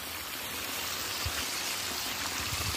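Water flows steadily into a potato field for irrigation, a constant close rushing and trickling wash with occasional soft splashes, no voices.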